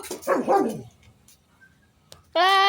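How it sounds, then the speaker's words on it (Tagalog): A dog barks and yelps several times up close, then falls quiet with faint background noise before a loud tonal cry bursts in at the end. "May nagwawalang aso"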